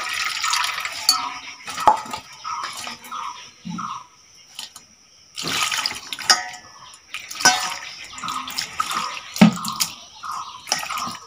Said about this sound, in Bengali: এখন আমি এগুলো ধুয়ে নেব